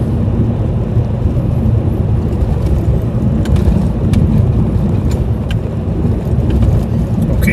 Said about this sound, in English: cruising through the country lanes